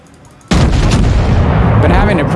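Battleship guns fire in the naval game World of Warships: a sudden loud booming blast that cuts in after a quiet moment and rolls on as a sustained heavy roar for the rest of the stretch.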